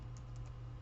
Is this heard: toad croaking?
no